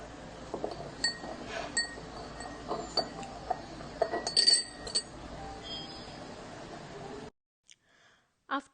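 A spoon stirs superfine sugar into room-temperature water in a glass, giving repeated light clinks and taps against the glass under a quiet voice, then a near-silent stretch with a couple of final clinks.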